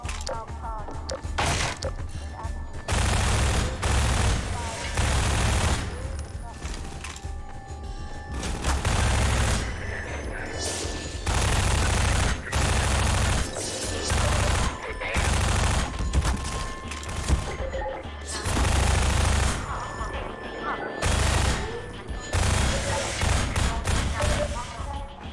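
Counter-Strike gunfire in dense, repeated bursts of rapid automatic shots, loud and close, broken by short pauses, with a voice talking over parts of it.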